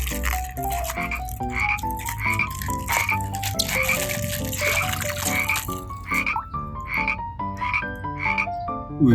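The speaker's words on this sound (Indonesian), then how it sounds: "Widih, hewan katak." A frog croaks in quick, rhythmic pulses over a bright, tonal musical backing, steady and fairly loud throughout.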